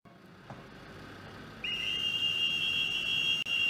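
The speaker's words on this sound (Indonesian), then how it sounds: "Pasukan Angkatan Laut meniupkan peluit ketika mobil jenazah berhenti di Kapel Gregor" At a funeral procession, navy whistles start partway through as the hearse stops at a chapel, holding one shrill, steady high pitch over a low outdoor background murmur.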